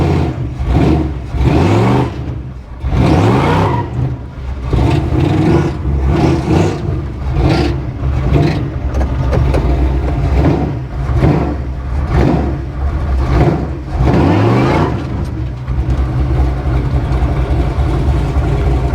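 A car engine runs steadily after starting, with a loud continuous low rumble and rhythmic rattling or knocking pulses throughout, suspected to come from the drive shafts, and no talk over it.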